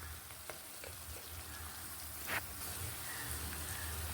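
Onions frying with turmeric in a pan for a Telugu potato curry, a soft steady crackling sizzle that runs faintly throughout, with a few light clicks of utensils on top.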